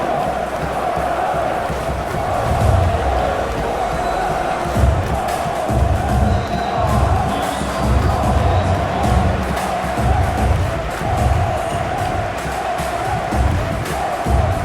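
Stadium crowd in a football video game simulation of a World Cup 2026 knockout match roars continuously, a dense steady wall of cheering and chanting with rhythmic swells, loud and sustained.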